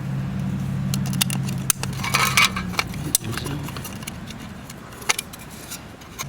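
Tin snips cut the excess sheet metal off a homemade wood gas backpacking stove, giving a run of crisp metallic clicks and snaps, some louder and close, scattered over a faint rustling background.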